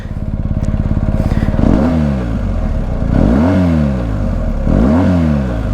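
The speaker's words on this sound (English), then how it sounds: "we can hear the Akrapovic. So the whole bike sort of tugs to the left as it starts with the Boxer engine" A BMW R1250 GS boxer engine with an Akrapovic exhaust fires up from a cranking stutter, then revs loudly three times, each rise and fall close and throaty, with no talking.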